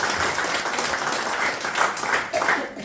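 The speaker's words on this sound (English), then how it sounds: "another round of applause. Just keep clapping." Sustained audience clapping during a speech event, a steady wash of hands filling the hall for a few seconds without talk.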